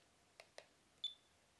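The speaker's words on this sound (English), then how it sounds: "will give the readout with the beep right there." A Suaoki D8 smart digital laser distance meter gives two quiet button clicks followed by a single short, high-pitched beep as the reading appears, faint and close in a quiet room.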